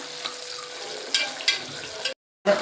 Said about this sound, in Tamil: வெங்காயத்தை இப்போ வந்து நல்லா வதக்கிக்கலாம் வந்து நல்லா பொன்னிறமாக நல்லா இப்படி வதக்கிக்கணும்